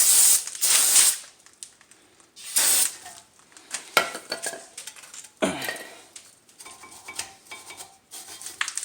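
Brake cleaner is sprayed onto the rusty front brake parts of a 2015 Nissan Rogue in short hissing aerosol bursts, mixed with nearby clinks and scrapes of tools.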